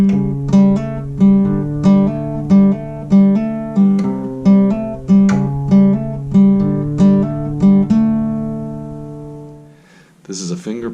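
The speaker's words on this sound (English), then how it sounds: "This is a finger-picking version of the song, which means in the bass I'm pretty much constantly having an alternating bass to keep the rhythm." Fingerstyle acoustic guitar plays the opening of a song, with a steady alternating bass under plucked melody notes at a relaxed, even pace. The strings ring out near and clear, and a brief noise follows at the end.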